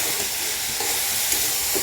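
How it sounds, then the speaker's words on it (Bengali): Greens sautéing in a pan for a Bengali fish curry with pangas fish and helencha greens, giving a steady close sizzle and hiss throughout with a few soft stirring clicks, no voices. "ভালোভাবে কষিয়ে নেব।"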